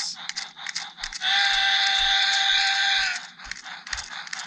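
A Tomy Plarail C62 toy steam locomotive rolls along, giving a steady electronic puffing hiss that holds for about two seconds between lighter clicking and tapping from the toy.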